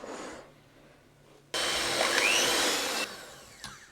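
An electric whisk beats sugar for an apple cake. After a short softer stretch, a steady loud motor whir runs for about a second and a half, then drops back to a lower hum.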